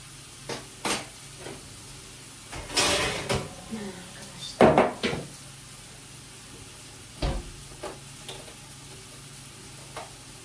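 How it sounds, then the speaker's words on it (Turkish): Food frying in a pan on a home kitchen stove, a low sizzle running underneath while a few scattered clinks and scrapes of utensil stirring land at irregular moments, with brief quiet stretches between. "şöyle kızartıyorum onları"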